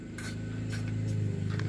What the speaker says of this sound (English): I'm just going to spray a little bit.